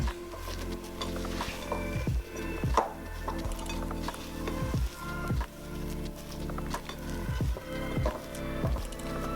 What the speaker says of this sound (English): So now I'm just going to add my last little bit and continue to fold it in.